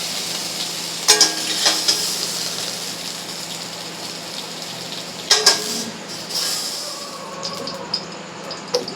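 Potatoes frying in the oil left over from frying stingray fish, a continuous bubbling sizzle close by, broken twice by sharp metal clanks of a utensil against the pan.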